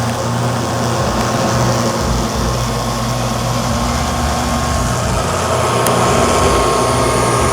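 A Neato Botvac D75 robot vacuum runs with a steady whirring fan hum and low motor drone, continuous and fairly close with no pauses.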